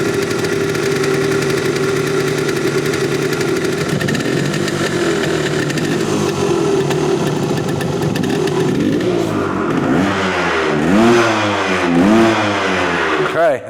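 An old Yamaha motorcycle engine, recently revived after sitting in a hoarder's collection, idles with a steady buzzing drone, then revs up and down repeatedly in quick rising and falling bursts, loud and close, with people talking over it.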